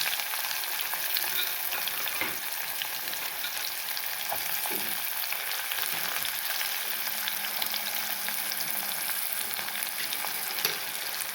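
Ginger, curry leaves and onions fry steadily in a hot pan for a Brahmin-style vankai pulusu pachadi, giving a continuous close sizzle with occasional stirring scrapes and no talking.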